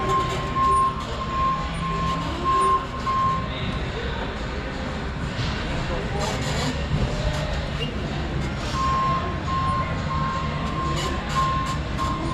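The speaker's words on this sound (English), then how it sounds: "you got a backup alarm" Backup alarm on a CAT-Mitsubishi FBC18N 3,500 lb electric forklift, a steady high beep repeating at intervals over a loud rumbling background, with the middle stretch masked by other noise.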